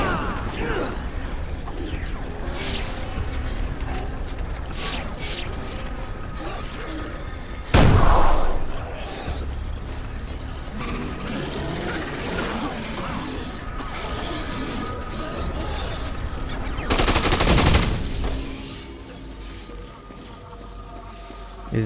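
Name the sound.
vomit-firing throw up gun in the video game Dead Rising 2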